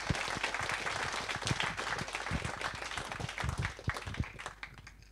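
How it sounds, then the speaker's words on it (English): A small audience at a WordPress meetup claps for a speaker, a fairly quiet, uneven patter of individual hand claps spread across a few seconds. "Please give Gary a big round of applause"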